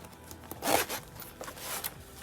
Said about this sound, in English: So let's zip that back.